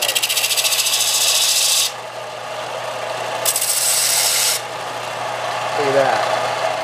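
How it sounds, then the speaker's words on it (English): A belt sander grinds the rough edge of a wooden guitar headstock in two loud, hissing abrasive passes over a steady motor hum, with a short voice near the end. "put on the belt sander,"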